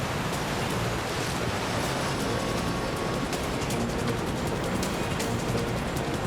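Loud, steady roar of raging whitewater rapids on the Mangde Chhu river in Bhutan, a dense continuous rush with no let-up and no voices.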